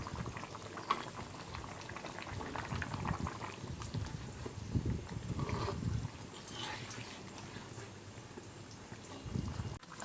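Fish curry with tomato simmering in its gravy in a pot: continuous soft bubbling and popping with faint liquid gurgles, close and fairly quiet, no voices.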